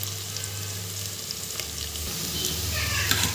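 Chopped onions, curry leaves and green chillies fry in hot oil for sambar, giving a close, continuous sizzle that swells slightly toward the end, with a few faint stirring clicks and no talk.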